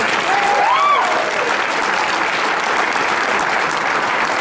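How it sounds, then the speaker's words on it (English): Steady, dense applause from the audience at a 2012 Bernalillo County political convention, loud and sustained throughout, with a brief voice rising above the crowd near the start. "another round of applause for all the folks who worked hard to make this event happen today"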